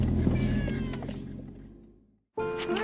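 A ragdoll cat whining in a car, a drawn-out plaintive meow that fades to near silence, then a second louder meow starts abruptly, close and clear.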